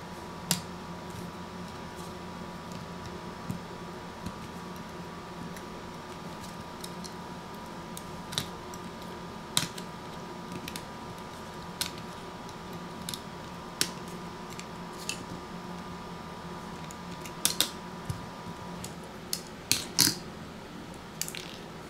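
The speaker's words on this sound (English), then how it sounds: "next we're going to remove the top and bottom plastic covers." Top and bottom plastic covers are pried off an LG V40 ThinQ phone during a teardown: sparse, sharp little clicks and snaps scattered over a quiet, steady background hum, bunching together near the end.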